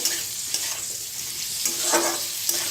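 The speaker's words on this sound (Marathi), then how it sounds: "फुलगोबी भाजायचं छान असं तेलात." Cauliflower fries in hot oil with a steady close sizzle while a spoon scrapes and stirs the pan in a few brief strokes.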